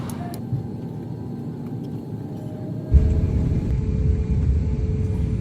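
A Qatar Airways jet taxiing on the runway at Kochi airport, heard from inside as a low steady engine rumble that jumps louder partway through and then holds, continuous and near.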